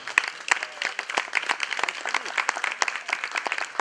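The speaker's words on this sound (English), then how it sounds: "please, a round of applause for Enugu State" Applause from a gala fundraiser audience, a brisk, crowded patter of clapping with sharp individual claps standing out, steady throughout a few seconds.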